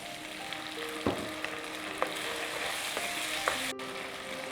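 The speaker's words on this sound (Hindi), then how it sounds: "थोड़ी देर सोटे करने के बाद जब ये थोड़े से सॉफ्ट हो जाएं तब हम गैस कम कर देंगे" Vegetables sautéing in a pan for chilli paneer, a steady broadband sizzle running throughout with a few sharp clicks of stirring.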